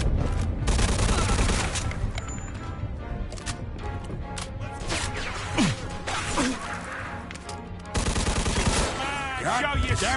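Mafia 2 gunfire: loud, rapid automatic bursts and single shots cracking close by, with impacts and whooshes in a frantic shootout, while characters shout and talk over the fighting.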